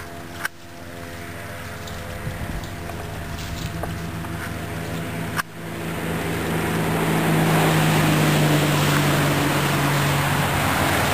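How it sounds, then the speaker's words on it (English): Water runs steadily from a small fountain pump that drives a little water wheel outside a woodworking shop. It makes a continuous splashing rush with a couple of sharp clicks, growing louder and fuller in the second half. "Just powered by a little fountain pump."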